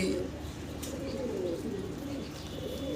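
Fancy pigeons kept in a home pigeon loft coo together in a soft, steady low murmur that runs continuously at a faint level, with no talking.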